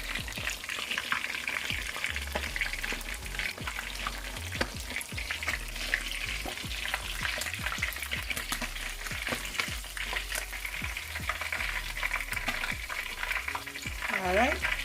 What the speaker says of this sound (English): you want to make sure all sides are fried